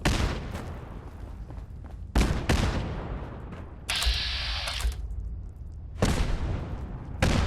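Gunfire in the Fallout 4 video game: several loud, dense bursts of shots in separate volleys, with a sustained mechanical whir between them and no talk.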